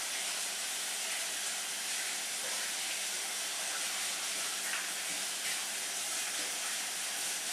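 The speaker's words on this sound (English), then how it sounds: "I'm going to wash off what I have in my hands" Tap water runs steadily in a home kitchen as scone dough is rinsed off hands, a constant broad splashing hiss that lasts throughout, with no talking.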